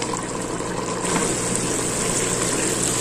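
Water dripped a little at a time into a pressure cooker of browned chicken thighs and Tuscan sausage gives off a steady, fairly loud sizzling hiss, with no talk over it.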